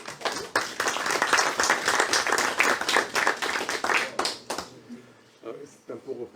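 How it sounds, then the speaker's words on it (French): An audience at a municipal council meeting bursts into dense applause, close and lively for about four seconds, then fades to scattered claps and murmuring voices. "je crois qu'on peut les applaudir"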